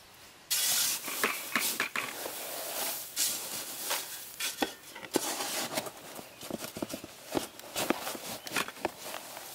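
Someone stirs a chunky hoya potting mix of chunk charcoal and sponge rock, producing gritty, crunchy rustling bursts and loose clatter, close by and uneven, with no speech.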